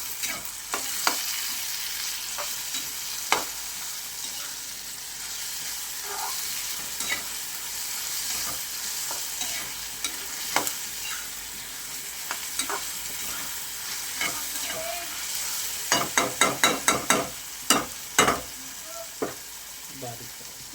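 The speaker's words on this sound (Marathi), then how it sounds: "आता टोमॅटो टाकला बघा. हलवून घ्यायचं. छान हलवून घ्यायचं." Chopped tomato stirs and fries in a pan with a soft, steady sizzle, while a spoon scrapes and knocks against the metal now and then, the taps coming faster near the end.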